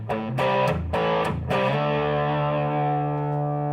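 An electric guitar plays through a ZVEX Box of Rock distortion pedal: several quick, heavily overdriven chord stabs, then one chord rings out and sustains, loud and close.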